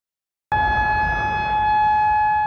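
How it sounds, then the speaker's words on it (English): An outdoor civil warning siren in Tyler, Texas starts abruptly and holds a loud, steady, sustained tone with strong harmonics, unbroken for the rest of the moment. "it's hard to mistake that sound. A warning siren."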